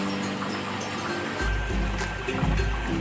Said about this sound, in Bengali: মাছটা একটু নাড়াচাড়া করে পরিমাণ মতো জল দিয়ে দিলাম